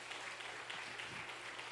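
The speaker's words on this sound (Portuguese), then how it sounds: "Aplaude o teu Deus por isso." Church congregation applauding during a sermon, a soft, even wash of many hands clapping together, fairly distant and without talk.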